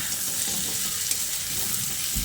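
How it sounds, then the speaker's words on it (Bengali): Potato and pumpkin chunks fry in a pan, a steady close sizzle with soft scraping as they are stirred, continuous throughout with no voices. "আলু ও কুমড়োটাকে দেখুন বেশ খানিকক্ষণ নেড়ে চেড়ে আমি বেশ ভাজা ভাজা করে নিয়েছি"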